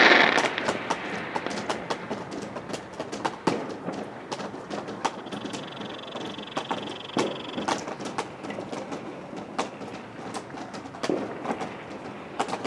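Fireworks crack and pop near railway lines as a rapid, irregular series of sharp bangs, some close and loud, others fainter, over a steady rumble with a brief high whistle midway.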